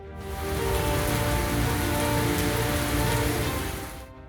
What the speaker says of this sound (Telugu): అల్పపీడన కారణంగా పలు జిల్లాల్లో వర్షాలు పడుతున్నాయి